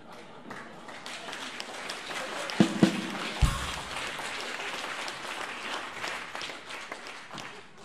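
Audience applause rolls on steadily for several seconds, a dense crowd of clapping hands with a few louder claps and knocks near the middle.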